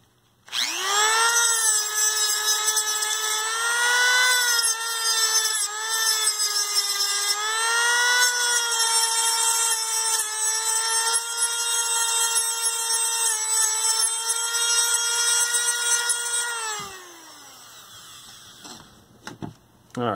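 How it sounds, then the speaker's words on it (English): A power tool grinds off leftover material inside a 1973 Admiral 12-inch hybrid color television, a loud steady whine running for about sixteen seconds before spinning down, then near silence. "And then we'll just grind off the rest here."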